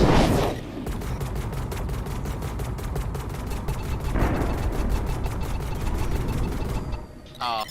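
Sustained rapid spaceship gunfire in the space combat game Infinity: Battlescape, a dense stream of evenly spaced shots rattling for several seconds with a heavy burst midway, loud and close.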